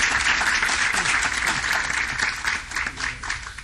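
A council chamber audience claps for a local coach being recognized, the applause strong at first, then thinning and fading out over a few seconds.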